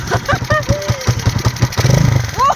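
A motorcycle converted from fuel injection to a carburetor, its starter button broken and wired directly, runs with an uneven, pulsing engine rumble close by while someone talks over it.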